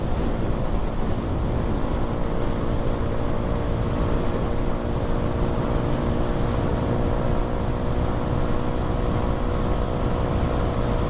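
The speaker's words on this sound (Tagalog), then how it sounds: "Ang lakas ng hangin" Strong wind roars and buffets the microphone steadily while riding a Honda XRM fi motorcycle, blending with a low engine rumble in a loud, unbroken wash of noise with no talking.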